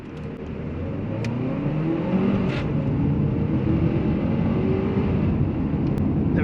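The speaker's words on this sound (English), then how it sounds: "I'll slow down to 10 this time and do a full throttle." A 2024 Haval H6 2.0T SUV with a turbocharged engine and seven-speed dual-clutch gearbox accelerating at full throttle from low speed, its engine note rising steadily into a loud, sustained drone heard from inside the cabin, with no talk.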